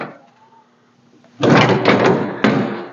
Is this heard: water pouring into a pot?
no